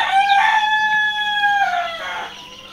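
A rooster crows loudly and close at a poultry farm raising tiger chickens and chicks: one long, drawn-out cock-a-doodle-doo with strong, clear tones, fading at the end with no talk.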